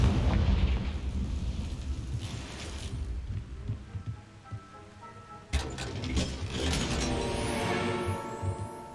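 Confringo spell blasts in Hogwarts Legacy: a deep explosive boom opens, then rumbling decay, followed by a second sharp burst with crackling, clinking debris and lingering low rumble.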